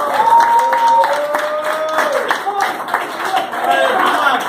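Applause and clapping from a concert audience for a guitarist during a live metal show, under a voice talking and lingering tones.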